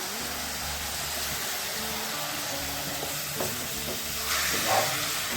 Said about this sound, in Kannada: ಚೆನ್ನಾಗಿ ಫ್ರೈ ಮಾಡ್ಕೊಳ್ಳೋಣ ಮಸಾಲೆ ಟೊಮೆಟೊ ಎಲ್ಲ ಚೆನ್ನಾಗಿ ಫ್ರೈ ಆಗಿದೆ